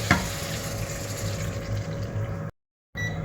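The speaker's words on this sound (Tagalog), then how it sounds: "Lagay tayo konting tubig." Water poured into a pot of pork caldereta with garlic, onion and tomato sauce, a steady close splashing pour lasting a few seconds, with a brief silent gap near the end.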